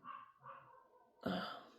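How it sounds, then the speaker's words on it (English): Several dogs barking indoors in the distance: three short, muffled barks, the last one louder and rougher, with no talking. "sorry, my dogs are barking."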